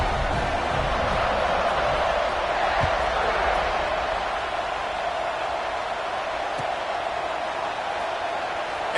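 Steady, dense roar of a football stadium crowd cheering after a touchdown, loud and continuous throughout with no break.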